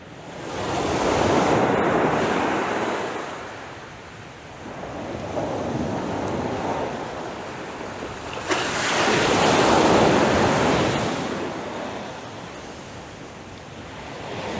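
Ocean waves break and roll in, three broad swelling surges of hissing surf with a steady rush of wind between them, loud and fairly close, with no voices.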